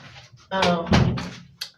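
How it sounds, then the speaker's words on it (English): A door being closed indoors: a dull thunk midway through, with a voice talking around it. "let me try to close this door because it'll probably be a lot better"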